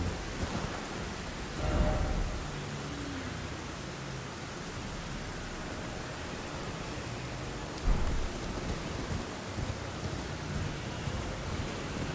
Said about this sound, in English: and then there was rain.